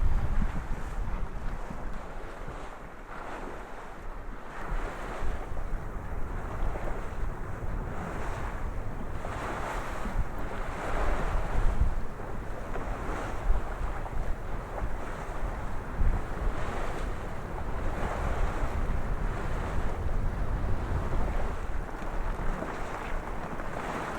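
Continuous rush of sea waves and surf around a small dinghy, with heavy wind buffeting the microphone, a steady loud wash that never lets up.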